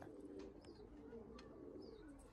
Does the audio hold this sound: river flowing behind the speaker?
no